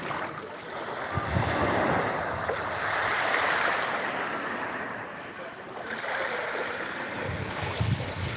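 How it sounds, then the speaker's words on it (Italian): Sea waves wash in and recede on Pevero Beach, Sardinia, in soft, rushing surges, with a light wind in the background. "se c'è le onde sentite il rumore delle onde"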